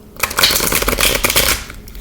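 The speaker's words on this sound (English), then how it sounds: "I've shuffled these before, but I'll shuffle it a little bit more right now." Osho Zen Tarot cards are shuffled by hand, a close, fast run of papery riffling flutters lasting about two seconds.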